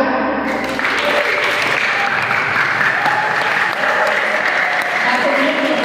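An audience claps throughout a student organization election debate at an Islamic boarding school, with continuous, fairly loud applause and no pauses.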